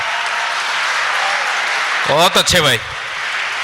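Applause from an audience at a Hindi comic poetry recital (kavi sammelan) fills the first two seconds as a dense, steady wash, then a voice speaks briefly over fading clapping.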